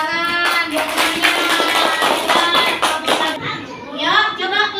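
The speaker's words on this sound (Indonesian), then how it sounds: "tepuk tangan buat semuanya" A third-grade class of children claps together in a dense burst of rapid hand claps, with children's chatter and voices mixed in, ending as the clapping stops and speech takes over.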